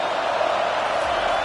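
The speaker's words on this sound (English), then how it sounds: "Listen to this crowd just shaking the girders of this place" A stadium crowd roaring at an LSU vs Clemson college football game, a steady, dense wall of loud, hissing cheers with no breaks across the whole moment.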